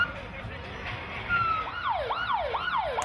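A St John ambulance siren at a pride parade in Auckland starts with a steady tone, then switches to a fast rising-and-falling wail, moderately distant over crowd noise.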